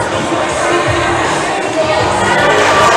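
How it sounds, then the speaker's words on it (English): Crowd cheering and shouting for a climber who has just fallen at a provincial top rope climbing final, a dense continuous roar of voices indoors. "Crowd's cheering her on."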